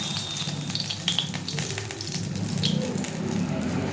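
Pieces of cut fish frying in a pan for a Bengali fish-head and cabbage dish, with a steady oily sizzle and small crackles and pops throughout, close and fairly loud, with no talking.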